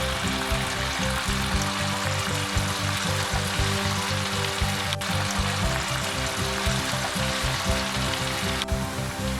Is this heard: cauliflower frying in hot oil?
yes